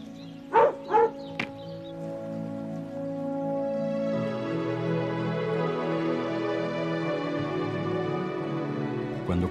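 A dog in rural Galicia gives two or three faint barks, set well back in a quiet countryside valley before a steady low hum takes over.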